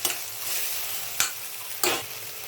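Onion and tomato sautéing in a pan for egg bhurji give a continuous close sizzle, broken by two sharp scraping stirs.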